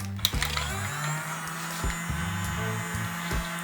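A toy vacuum cleaner from Fix Price runs with a thin electric motor hum and buzz, steady and close, broken by a few small clicks and rattles.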